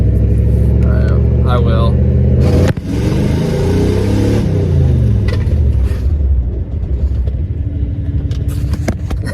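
A Ford Mustang at full throttle gives a loud, roaring surge of engine acceleration with a pitch that rises through a gear change and carries on strongly. Someone speaks briefly over it at the start.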